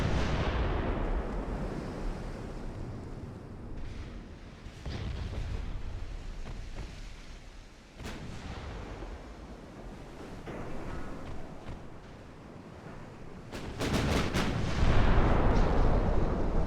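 Warship broadside artillery fire in the naval battle game Ultimate Admiral: Dreadnoughts booms over a rumbling sea and wind background, with several heavy blasts and a loud cluster of rapid shots near the end.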